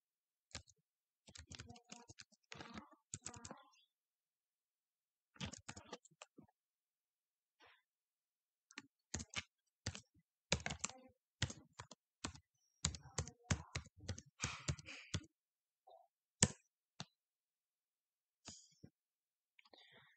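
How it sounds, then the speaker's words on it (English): Quiet, close keystrokes tap on a computer keyboard in irregular clusters and bursts separated by short pauses of silence. "Type here the administrator"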